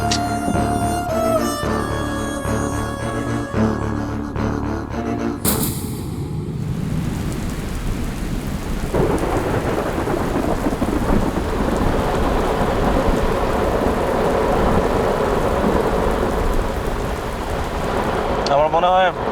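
Heavy rain pours steadily through a thunderstorm, with loud, close thunder cracks and rumbling lightning strikes breaking over the constant downpour.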